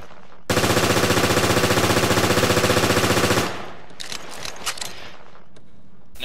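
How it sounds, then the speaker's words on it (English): A Heckler & Koch MP5 submachine gun in Resident Evil: Revelations fires one sustained, rapid full-auto burst lasting about three seconds, followed by scattered mechanical clicks and clacks as the firing stops. "The MP5 is the more powerful of the two submachine guns in this game"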